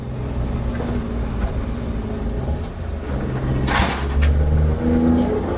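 A mini van engine strains uphill in first gear on a road with landslides, a loud, sustained low drone that swells slightly toward the end, with a brief hiss midway.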